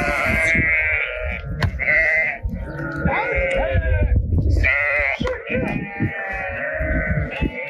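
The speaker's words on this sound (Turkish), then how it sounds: "Kuzu muzu arada ezecekler ha." A flock of sheep and lambs on a seasonal migration route past Balıkgöl lake in eastern Turkey bleats loudly and continuously, many overlapping calls nearby, while people's voices come through beneath the flock.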